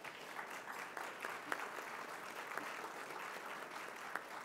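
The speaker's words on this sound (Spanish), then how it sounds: "Les pido un aplauso para ellos" An audience at a meeting session claps in a sustained round of applause, a steady wash of many hands heard at a moderate distance, with a few sharper claps standing out and no talking.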